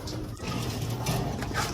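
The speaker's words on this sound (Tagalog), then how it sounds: "Yan ang ating mga ibon." Soft, low cooing of pigeons close by, a few murmuring calls over a faint background.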